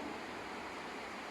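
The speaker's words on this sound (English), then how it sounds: "There's a river down there, that's what that noise is." A river flows below a backcountry hut in native bush, heard as a faint, steady distant rush of water with no other sounds.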